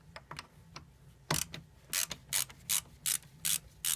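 A ratchet loosens the 10 mm negative battery terminal nut on a Toyota Sienna 3.5L V6, with a few light clicks and then a run of evenly spaced ratcheting bursts, close and fairly quiet.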